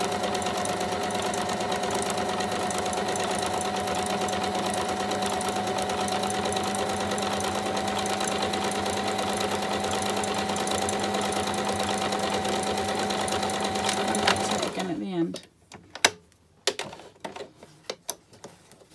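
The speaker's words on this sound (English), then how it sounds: "just do a little bit of back tacking to secure, and then hold that in position and work your way down to the end." Sewing machine stitching a zigzag seam on fabric edge with back tacking, a steady loud rapid whirring rattle that stops abruptly near the end, followed by a few soft clicks and handling noises.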